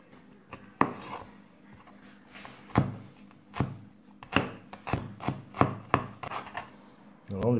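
A knife cuts a peeled shallot on a board, giving crisp, close, irregular chopping taps with a few soft scraping rubs between them, in a quiet kitchen.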